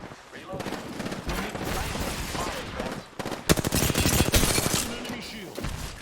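Gunfire in a video game as the player is being shot, rapid overlapping automatic shots and impacts in dense bursts, loud and close, with a voice talking over the shooting.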